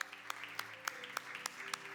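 Rhythmic clapping during Christian worship, evenly spaced and fairly soft, with a faint murmur of voices underneath.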